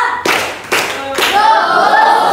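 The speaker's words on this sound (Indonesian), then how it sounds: "Terima kasih tepuk tangan kalian" Children in an Indonesian sixth-grade classroom clap in rhythm, three sharp separate claps in quick succession, then a voice carries on alone after the last one.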